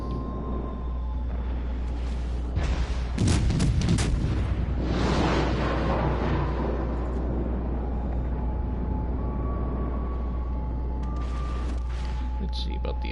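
Warship guns booming in the naval game World of Warships Legends, a cluster of loud blasts and rumbling bursts near the middle over steady engine hum, with a voice talking across them.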